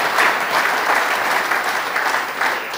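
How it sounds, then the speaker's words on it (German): A studio show audience claps continuously and fairly loudly, a dense sustained patter of applause with no talk over it. "klatschen ist durchaus mehr als erlaubt"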